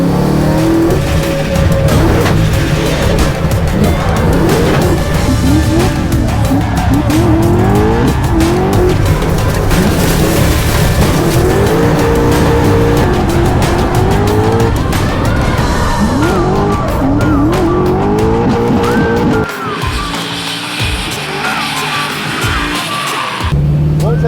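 Ford Mustang race car with jammed steering and no power steering, sliding into a drift: loud engine roar and revving with sustained tire squeal throughout, easing off near the end.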